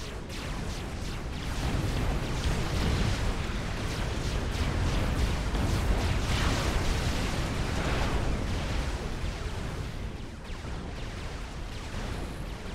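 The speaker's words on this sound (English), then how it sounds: "come in the next wave of gunshots" Dense, continuous rumble of artillery fire and explosions from a Supreme Commander survival match on the Island of Swords map, with bursts overlapping into a steady roar and no voices.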